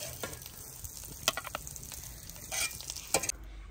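Capsicum and tomato frying in a shallow pan, a steady soft sizzle broken by a few sharp scraping stirs; close and fairly quiet, with no talking.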